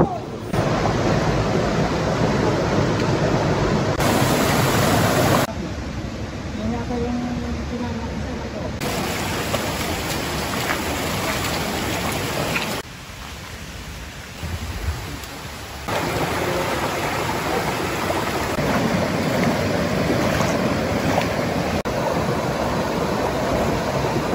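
Loud, steady rushing of river water during a waist-deep river crossing on a mountain trek in Maria Aurora, Aurora, a continuous broadband wash that shifts in level as the recording moves, with no talking.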